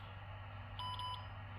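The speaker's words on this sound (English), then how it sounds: "it'll beep so many times" A ham radio gives a few quick, faint electronic beeps in a short burst while a memory bank is selected, under a steady low background hum.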